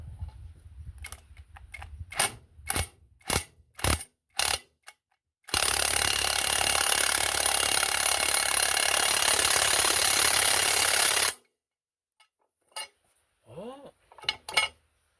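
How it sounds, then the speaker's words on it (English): A nut is tightened on a new hay mower blade, first with a series of separate metallic clicks, then a loud continuous whir of an impact or power tool for about six seconds, followed by a few scattered clanks. "Start the nut. It's not wanting to pull up too good, so I'm going to go slow."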